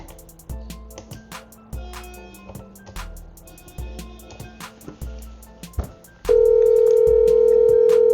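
Telephone line on a call to the guard over a voice network link. Rhythmic, music-like tones and clicks give way to a loud, steady electronic tone that holds to the end.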